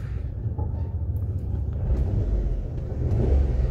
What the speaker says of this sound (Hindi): ये तो मैं रेस दे रहा हूँ एक बारी ये देखो